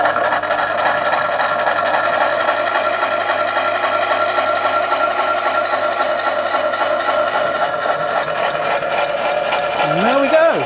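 A Kennedy Model 60 power hacksaw cuts through half-inch brass round bar clamped in a vise, with a steady rhythmic mechanical clatter of strokes close up. A whirring note slides down as the machine stops at the end.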